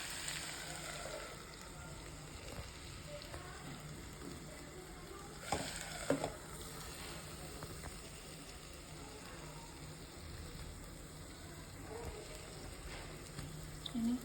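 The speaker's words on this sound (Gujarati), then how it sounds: "થોડા બટાકા ચડ્યા એટલે મેં ભીંડા નાખી દીધા છે" Okra and potatoes frying together in a pan, a faint, steady low sizzle with an occasional stir or clink, quiet and without speech.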